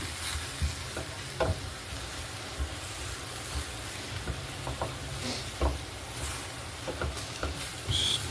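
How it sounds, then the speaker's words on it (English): Mongolian beef being stirred in a pan with hoisin sauce, a steady low sizzle broken by scattered scraping and clinking spoon strokes, fairly quiet throughout with no talking. "Stirring it up, yeah."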